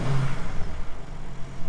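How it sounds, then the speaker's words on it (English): A 2021 BMW M3 Competition set to M2 mode rumbles through its exhaust with a throaty, steady low drone, heard up close for under two seconds with no talking. "A bit throatier in the exhaust."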